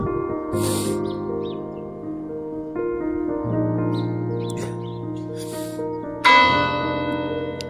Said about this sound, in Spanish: Esta es la campana más horrible.